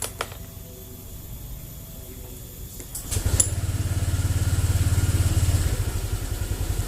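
Honda Vario scooter with delayed, unresponsive throttle: idle ticks over quietly, then the engine revs up sharply and holds a raised, buzzing pulse before easing back slightly, recorded close.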